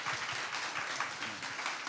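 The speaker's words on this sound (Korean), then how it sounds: "여러분 박수 한번 주세요" A seated audience at a Korean Liberation Army history talk gives a warm, even round of applause, faint and steady with no gaps.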